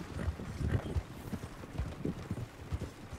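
Horse hooves clip-clopping as a horse-drawn wagon passes in the video game Red Dead Redemption, a steady irregular clatter of hoofbeats heard up close without speech.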